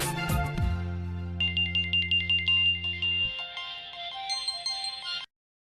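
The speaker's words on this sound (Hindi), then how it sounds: "प्लीज ऑनर को फोन करो" Telephone ringtone playing a repeated electronic melody, loud and alone, with a steady low tone early on that drops away while the tune continues until it cuts off abruptly.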